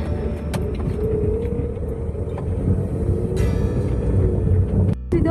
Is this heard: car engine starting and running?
yes